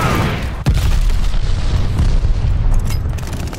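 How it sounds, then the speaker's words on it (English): Glide bomber explosions in the multiplayer video game Call of Duty Vanguard, a loud continuous barrage of deep booms and rumbling blasts with sharp impacts layered throughout. "Glide bomber assist coming in."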